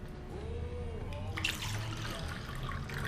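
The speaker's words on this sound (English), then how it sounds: "It's water, Miranda." Water runs with a sudden rushing onset partway through, then flows steadily and fairly close, like a tap or faucet, after a quieter stretch with faint tonal sounds at the start.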